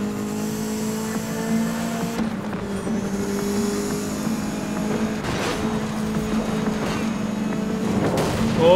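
A Lancia Delta HF Integrale hot hatch races in NFS: Most Wanted (2012), its engine droning steadily at high revs with pitch shifts as it accelerates through a sprint race, loud and continuous.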